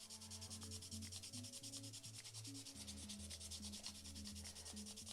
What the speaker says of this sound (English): Everything's just gonna get sanded down.